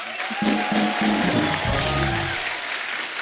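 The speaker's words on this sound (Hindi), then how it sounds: "तालियां बजती रहनी चाहिए आपकी।" Studio audience applause on the set of The Kapil Sharma Show, steady, dense clapping that carries on throughout while music and a harmonic tone play beneath.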